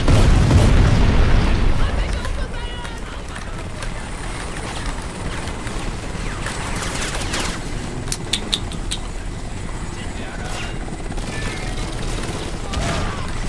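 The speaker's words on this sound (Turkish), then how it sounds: "Yukarıdan bomba atıyorlar." Heavy explosions from bombs dropped from above in the video game Crysis, with a loud booming blast at the start followed by a rumbling, crackling aftermath and scattered distant pops.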